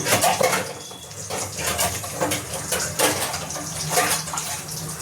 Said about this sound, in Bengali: বাসনটা একটু করে নিই